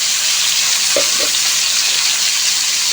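Vegetables and a fish head fry in a pan for a Bengali pui shak dish. A loud, steady sizzle runs throughout, with a couple of faint clinks from stirring.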